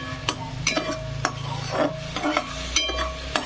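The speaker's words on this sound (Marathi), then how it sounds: "कांदा लाल होईपर्यंत फ्राय करून घ्यायचा" Onion frying in a pan for paneer tikka masala, with a steady sizzle under repeated sharp scrapes and clinks of a spoon stirring against the metal, close and fairly quiet.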